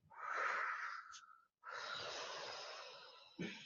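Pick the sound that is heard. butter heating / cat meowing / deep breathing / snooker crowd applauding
deep breathing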